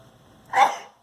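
A single short, sharp sneeze-like burst from one person, close and fairly loud, after a moment of quiet.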